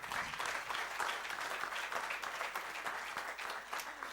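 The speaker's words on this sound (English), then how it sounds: "Can we have a round of applause for Professor Hegde," An audience applauds at an annual day event at the TAG Center in Chennai, a dense, steady wash of many hands clapping that carries on without a break, fairly far off.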